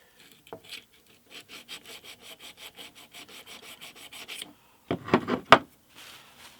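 A steel chisel is rubbed back and forth on a sharpening stone to raise a burr, a quiet series of about twenty rhythmic rasping strokes followed by a few louder scrapes.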